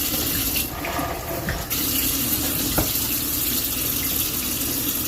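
Water runs steadily from a tap into a sink during rinsing, a continuous close hiss and splash with a brief change in tone early on and one small knock partway through.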